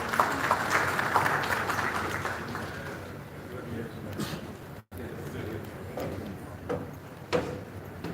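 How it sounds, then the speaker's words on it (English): Conference audience at SAIPEC 2025 applauding: dense clapping that gradually thins and fades over several seconds, leaving scattered claps and some murmuring. "Round of applause, please."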